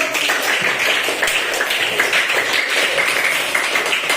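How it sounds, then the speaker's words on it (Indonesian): Students in a classroom clapping together, a dense continuous patter of hands that fills the room without a break. "Silakan tepuk tangan dulu ya."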